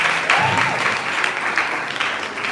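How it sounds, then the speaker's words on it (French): Loud, thunderous audience applause at a school conference at a lycée in Libreville, many hands clapping close and continuous, with faint whoops over it. "Est-ce qu'on peut donner un tonnerre d'applaudissements pour elle?"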